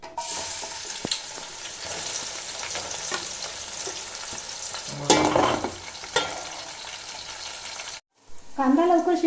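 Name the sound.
onion frying on low gas flame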